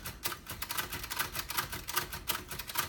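Backspace key on a 1956 Royal Quiet Deluxe typewriter, producing a quick run of crisp, close mechanical clicks and clacks in an even rhythm, with no talking.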